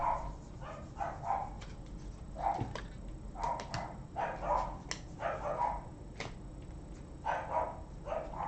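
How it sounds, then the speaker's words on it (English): Several dogs bark repeatedly in short, loud bursts with brief gaps, some yips mixed in, sounding fairly close in an indoor home during a baseball card box opening, with no talk over them. "I'm sorry about the dogs. They're so annoying."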